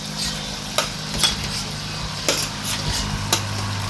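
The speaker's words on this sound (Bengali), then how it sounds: "এবার দিয়ে দিচ্ছি চাল কুমড়োগুলোকে" Ash gourd pieces go into a hot frying pan and get stirred, with a steady sizzle under scattered clinks and scrapes of a utensil against the pan.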